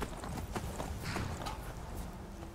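Horse hooves galloping in the Skyrim video game, a steady, dense rhythmic clatter of hoofbeats that runs continuously and fairly loud through a busy game soundscape.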